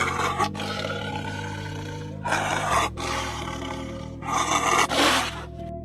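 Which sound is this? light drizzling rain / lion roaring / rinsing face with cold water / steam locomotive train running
lion roaring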